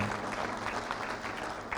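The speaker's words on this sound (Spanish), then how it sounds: "Vamos a darle un aplauso fuerte al Señor." A church congregation claps together in praise during a service, a brief, steady, moderately faint burst of applause.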